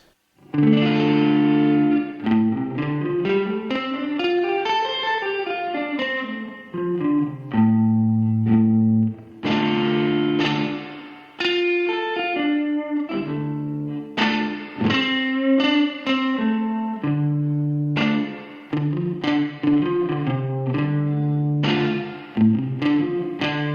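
An electric guitar with effects plays held chords with single notes picked over them, ringing with chorus and slight distortion, alone and up close.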